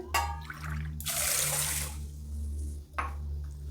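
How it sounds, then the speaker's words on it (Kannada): Water pours in a rushing burst into a bowl of rice for palak pulao, stops, then a shorter splash follows, over a low steady hum. "ಎರಡು ಬೌಲಷ್ಟು ನೀರು ಹಾಕ್ತಾಯಿದ್ದೀನಿ"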